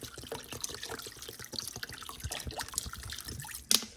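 Bottled water pours into a cooking pot for chicken and dumplings, an uneven close trickle and splash with small drips, ending in a sharp clunk.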